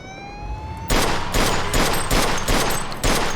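Loud bursts of gunfire in Mafia II, rapid volleys repeating every half second or so, with a rising siren-like tone before the shooting starts.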